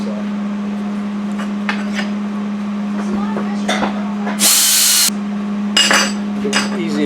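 Scraping and chipping slag off a fresh, still-hot weld: sharp metallic clinks and scrapes over a steady welder hum, with a loud harsh burst of grinding or brushing midway and another near the end.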